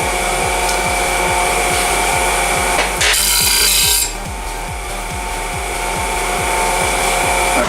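An angle grinder strips paint off a steel brake drum before welding, a steady loud whine with rapid regular rasping pulses, briefly rising to a harsher, brighter grind partway through before settling back.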